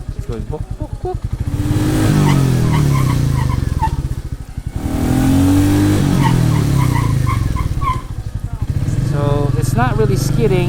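A Royal Enfield Meteor 350 motorcycle brakes hard with ABS, its close engine note falling and rising again in two waves over steady wind rush.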